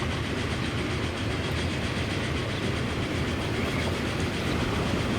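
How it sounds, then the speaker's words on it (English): A quarry train rolls along in Transport Fever 2, a continuous rumbling rail drone with faint rhythmic wheel clatter, steady and fairly close throughout. "In fact, we can see a quarry train."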